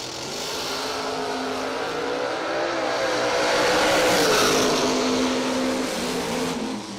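Drag racing cars, a Camaro against a Nova, accelerate hard down the strip at a season kick-off event, a loud sustained engine roar that swells toward the middle and stays strong as they pull away.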